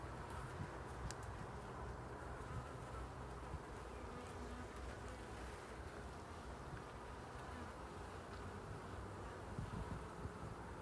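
Honey bees swarming over capped frames in an open beehive during a spring inspection, a dense continuous buzzing hum that stays steady throughout, close and low in level with no voices.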